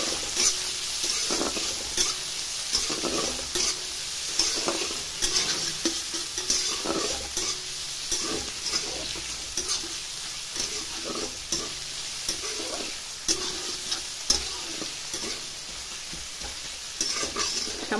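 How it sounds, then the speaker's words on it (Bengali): Semolina stirred and fried in a pan with chopped ginger and garlic: a steady close sizzle with repeated scraping strokes of a spoon against the pan, continuing throughout. "এবারে সামান্য একটু নাড়াচাড়া করে নেব"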